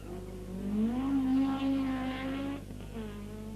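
A wide-bodied Ford Escort rally car races past at speed on a 1981 Circuit of Ireland stage, its engine note rising sharply, holding high and then dropping away as it passes.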